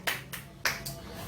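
A classroom of students claps briefly for a classmate, four sharp, quick claps close by and fairly faint, with no talk over them.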